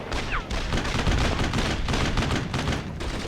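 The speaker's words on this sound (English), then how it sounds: "Oh, I'm getting shot." Dense, continuous World War II gunfire in Brothers in Arms, loud overlapping rifle and machine-gun shots with booming blasts throughout a close firefight.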